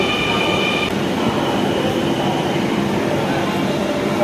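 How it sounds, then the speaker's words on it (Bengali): A metro train pulls into an underground station, a loud steady rumble of wheels and motor filling the space, with a brief high whine at the start and no voices. "মেট্রো রেলটি কাঙ্ক্ষিত এসে পড়েছে।"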